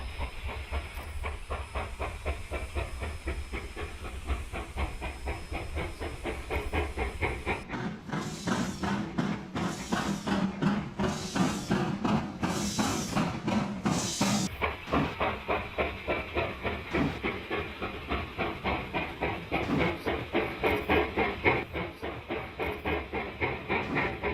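Steam locomotives with banker engines labour uphill in 1950s archive film, giving rhythmic chuffing exhaust beats and hiss over clattering wagons, loud and continuous, growing sharper midway.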